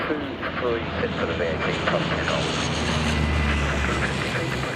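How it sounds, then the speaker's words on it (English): A Lockheed Hercules military transport descends toward RAF Brize Norton with a continuous deep propeller-engine drone and roar, while someone narrates over it. "The Hercules can now begin its descent into Brize Norton."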